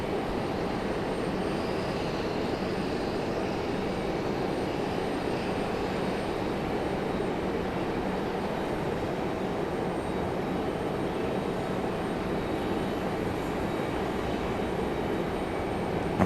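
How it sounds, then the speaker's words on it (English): An Air Canada jet departs Raleigh-Durham International Airport, its engines producing a sustained, even rumbling roar at moderate distance that neither rises nor fades much. "Maybe we'll get a back-to-back departure from our Air Canadas here."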